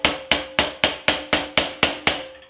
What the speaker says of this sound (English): take a small socket and just give it a light tap with a hammer